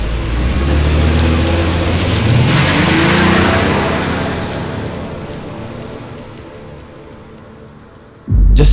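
Several cars pull away together, a broad engine rumble and tyre hiss that builds loud at first, then steadily fades into the distance before a sudden low thump at the end; no voices.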